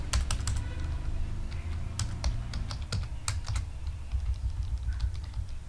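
HTML code is typed on a computer keyboard in quick irregular bursts of sharp, close clicks, with brief pauses between runs of keystrokes.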